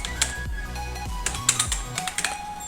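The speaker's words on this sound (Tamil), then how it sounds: "இந்த மாதிரி நம்ம டைப் பண்ணிக்கலாம்." Typing on a computer keyboard, a quick irregular run of close, crisp key clicks alone.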